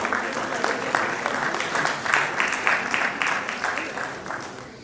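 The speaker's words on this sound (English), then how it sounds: "I think I deserve a round of applause." A crowd applauds steadily for several seconds, a dense patter of claps that swells slightly midway and then gradually thins out.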